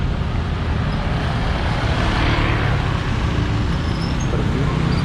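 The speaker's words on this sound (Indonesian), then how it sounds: "Ini angkot nih." Street traffic in Denpasar, Bali, with an angkot minibus among passing vehicles, a steady loud roar of engines and road noise close by, continuous with no clear pauses.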